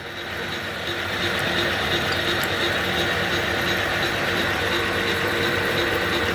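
A vintage metal lathe runs steadily in a workshop once its lever is pushed, making a dense, even mechanical whir and rattle with a faint ratcheting texture; loud and continuous, with no speech.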